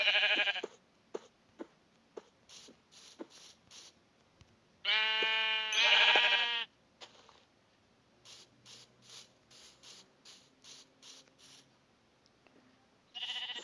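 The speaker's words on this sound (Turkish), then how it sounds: "Burada yalnız bir sürü koyun varmış." Several Minecraft sheep bleat in short, repeated calls, one long and loud, mixed with clicking ratchet-like mechanical sounds in quiet surroundings.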